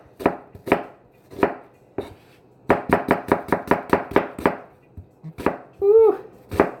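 Onions being chopped on a board for BBQ side dishes, knife strikes in irregular bursts then a fast steady run of about a dozen crisp chops, close and clear with no talk over them.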